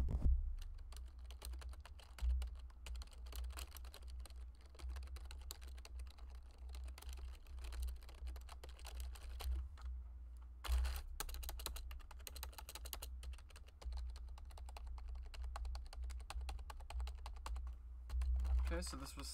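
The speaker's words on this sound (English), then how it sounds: "This is a stock keyboard that I'm going to be sound testing real quick." Stock Razer Cynosa V2 computer keyboard typed on continuously, a dense close clatter of soft key presses with a brief pause midway, over a low steady hum.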